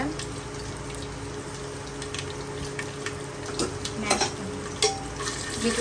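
Dried chillies, cumin and garlic tempering in hot oil, a steady close sizzle with scattered pops and occasional stirring clinks, no speech over it.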